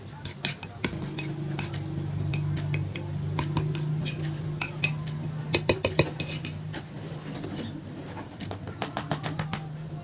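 A spoon scrapes and clinks in a small container, mixing a quarter tablespoon of powder into a paste of ground potato peel for a homemade bio-battery; scattered sharp taps and scrapes sit over a steady low hum, with a cluster of quicker clinks midway.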